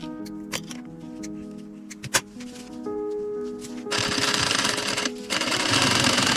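A sewing machine stitches trench coat fabric up close: short bursts of needle clatter with brief pauses, then a louder, sustained run of rapid stitching that continues to the end.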